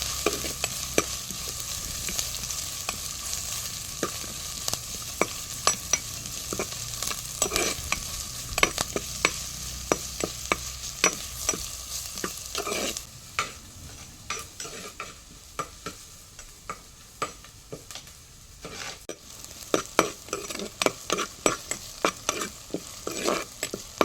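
Curry leaves, ginger and a green chili crackle and sizzle in hot oil for a fish curry, with a steady fry broken by frequent sharp scraping and stirring clicks, louder early then settling into sparser spatula knocks.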